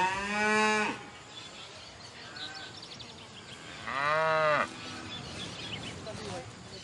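Cows lowing on a farm pasture, two loud drawn-out moos about three seconds apart over quiet outdoor background.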